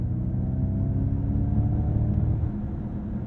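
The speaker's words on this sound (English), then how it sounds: "You have to turn on the propulsion sound to hear more." Ford Mustang Mach-E GT electric motors humming with the artificial propulsion sound on, a steady low droning rumble under road noise that holds even throughout.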